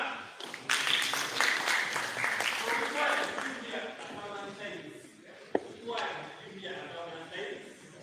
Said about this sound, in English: let us see a hand clap